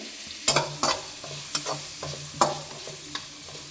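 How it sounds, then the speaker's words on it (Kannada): Onions frying in a pan for a lady finger curry, with a soft sizzle under several sharp scrapes and clinks of a spoon stirring, close up. "ನೋಡಿ ಈರುಳ್ಳಿ ಚೆನ್ನಾಗಿ ಫ್ರೈ ಮಾಡ್ಕೋಬೇಕು"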